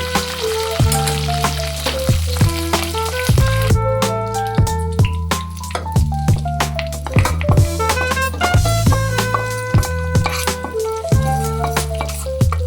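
A tempering of fried lentils and curry leaves hits a pot of katte pongal with a loud, continuous sizzle, close and unbroken, while a melodic tune plays over it and no one speaks.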